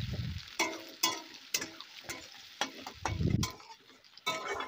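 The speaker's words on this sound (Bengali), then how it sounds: "একটা কড়াইতে বেশ কিছুটা পরিমাণে সর্ষের তেল ভালোভাবে গরম করে নিয়েছি। ওর মধ্যে পেঁয়াজ কুচিগুলো দিয়ে দিচ্ছি।" Chopped onions sizzle and crackle as they fry in hot mustard oil in a wok, with a steady hiss broken by repeated sharp bursts of stirring and scraping, close and alone.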